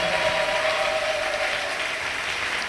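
A church congregation applauds their pastor in a steady, dense wash of clapping, holding at an even level throughout.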